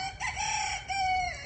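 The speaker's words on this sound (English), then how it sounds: "Let's count the rooster crows all with 2." A rooster crows twice in quick succession, a long sustained call repeated after a short pause, fairly close and clear with a faint hum of farmyard background underneath.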